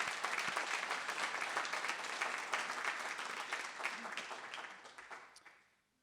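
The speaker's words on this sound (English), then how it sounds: "It is a round of applause." A city audience at a State of the City address gives a dense round of applause that holds steady and then fades away near the end.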